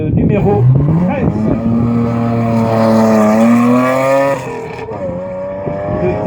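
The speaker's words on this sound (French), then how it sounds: "Piloté par Philippe Vaudebeau pour une Alfa 310 V6 groupe 5 de 1977" A 1977 Alfa 310 V6 Group 5 race car climbs a historic hill climb course at Saâcy, its engine roaring loud and close in one continuous drone whose pitch sweeps steadily upward and then levels off.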